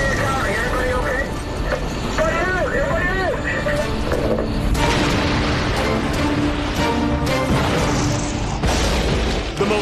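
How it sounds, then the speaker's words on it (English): Magnesium explodes in a burning building while firefighters douse it with water, giving loud bursts and booms over steady roaring noise, with voices and shouting in the background. "The firemen continue to douse the building, triggering even more magnesium explosions."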